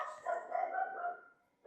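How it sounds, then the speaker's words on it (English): A dog gives a single drawn-out bark or howl-like yelp, fairly faint and distant, then tails off into near silence. "And that's the dog."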